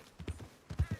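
Horse hooves clip-clopping in Red Dead Redemption 2, a handful of soft uneven steps at a walk, quiet and close.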